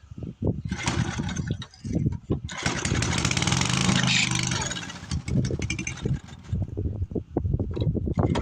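An old Briggs & Stratton engine on a cheap estate-sale tiller sputters and catches briefly, with a sustained loud run of a few seconds between bursts of cranking and bangs.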